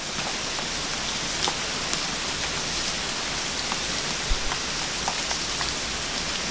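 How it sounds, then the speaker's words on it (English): Continuous rain pouring down in a broad hiss, with scattered individual drops tapping now and then. "It's slowed to a light rain and increased again."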